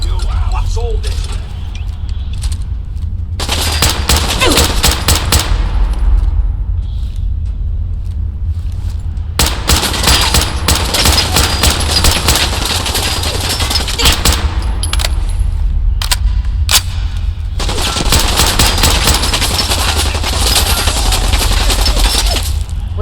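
Sustained bursts of rapid automatic gunfire in the Fallout 4 video game during a firefight, loud and dense, broken by brief lulls and mechanical clanks, with no voices heard.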